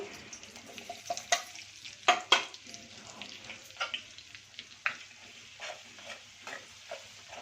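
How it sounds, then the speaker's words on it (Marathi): Spices tempered in hot oil for a chicken curry crackle and sputter in irregular bursts, with a spoon stirring the pan, fairly quiet and close with no talking. "चला आता मी सुरुवात करते, फोडणी देते।"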